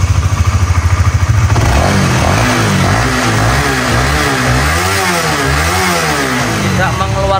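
A Honda CBR motorcycle engine runs close by, idling with a rapid throb before revving up and down in repeated wavering surges that sound loud and steady throughout.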